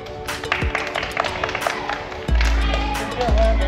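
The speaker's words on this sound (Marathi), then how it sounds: "टाळ्या." A few people clap in short scattered bursts at a family celebration for a new Toyota Innova Hycross car delivery, with a low rumble and some voices around.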